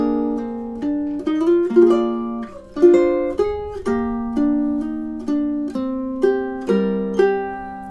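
Ukulele playing the first half of the B section of a love theme, a slow melody of plucked notes over held chords, each note swelling and fading in clear, close, unaccompanied phrases.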